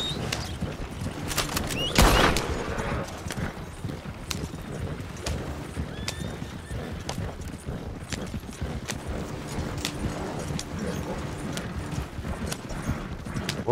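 Video game horse hooves clip-clop at a steady, rhythmic trot throughout, close and fairly loud, with a brief louder burst near the start and faint whinny-like tones in the background.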